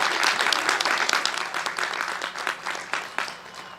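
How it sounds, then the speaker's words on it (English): Dense, steady applause from a commencement ceremony audience, many hands clapping together at close to moderate distance, slowly thinning toward the end. "Let's all give them one more round of applause."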